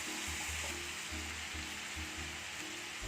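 Fried mutton with asafoetida is stirred in a pan for Kashmiri rogan josh, giving a faint steady sizzle with low rhythmic scraping pulses from the mixing, close and quiet.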